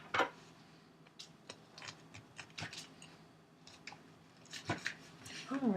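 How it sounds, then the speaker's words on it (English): A biscuit is cut in half in a quiet room, giving faint, scattered crisp clicks and crunchy snips spread unevenly across a few seconds. "I'm going to have you cut the biscuit in half"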